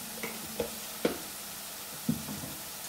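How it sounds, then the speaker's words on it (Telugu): Ginger garlic paste frying in hot oil for a bean curry makes a gentle sizzle, with three or four light spoon taps as it is stirred. "కొంచెం అల్లం వెల్లుల్లి పేస్ట్ అయితే వేస్తున్నాను."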